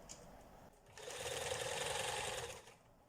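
A sewing machine runs close by, top stitching fabric for a girl's gathered gown. After brief quiet it gives a steady, loud whirring hum for about a second and a half, then slows and stops.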